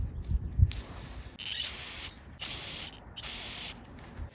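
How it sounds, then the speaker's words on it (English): Carburetor cleaner sprays into a Tecumseh snowblower carburetor in three sharp hissing bursts of about half a second each, close and loud, preceded by faint handling clicks. "I'll blow it out with some carb spray."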